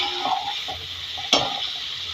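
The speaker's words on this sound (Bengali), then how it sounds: "নেড়ে চেড়ে মশলাটা কষিয়ে নিচ্ছি।" Spice masala stirred and fried in a pan for a home-cooked chicken curry: a steady close sizzle with scraping stirs and one sharp utensil clink, no voices.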